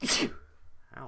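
A person sneezes loudly and close into a microphone in one sharp burst, followed by a short vocal exclamation.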